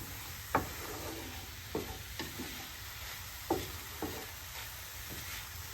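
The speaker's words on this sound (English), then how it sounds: "I want to hear a nice even sizzle" A quiet, steady sizzle of pearl oyster mushrooms browning in a pan, broken by a few soft scraping stirs at irregular intervals.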